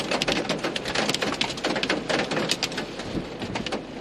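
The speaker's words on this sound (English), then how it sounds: "Now a nice cold rain." Cold rain pelts down steadily during a winter thunderstorm near a hail core, a dense close hiss of drops drumming on a surface with irregular louder spatters throughout.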